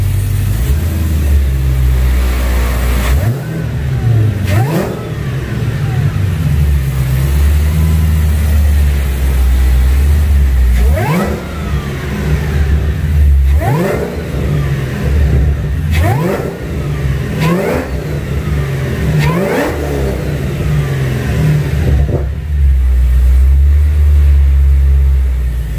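A Cadillac CTS-V with a ported supercharger, not yet tuned, revs its engine repeatedly from a loud, rumbling idle. There are about eight sharp throttle blips, close and powerful, each rising quickly and falling back.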